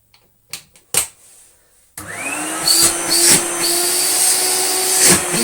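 A Hoover Celebrity S3005 vacuum cleaner with pre-motor filter and HEPA bag starts after a few knocks and handling clatters, then runs steadily and loudly with a whining hum, broken by sharp bumps and clicks.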